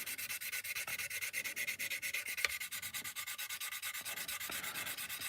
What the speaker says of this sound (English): Here's a really good rub down.